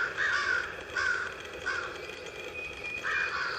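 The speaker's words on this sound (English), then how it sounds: "you can hear the crows all squawking at him" Several crows caw in repeated harsh bursts, moderately loud against a quiet outdoor background, with short pauses between the calls.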